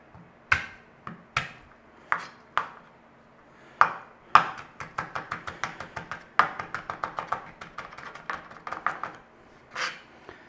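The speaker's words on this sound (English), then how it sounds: "Garlic. Mash, big or small as you like." Garlic being mashed for a chicken stroganoff in a home kitchen, heard as sharp knife-on-board taps and thumps: a few scattered hits, then a quick, dense run of close, crisp strikes.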